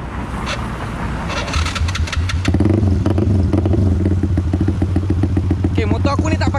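A big-bore 68.4 mm motorcycle engine without a decompressor cranks and catches after a brief starter whirr. It then settles into a loud, steady, thumping idle close by.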